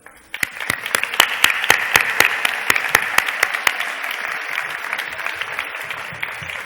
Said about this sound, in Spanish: eso también se merece un aplauso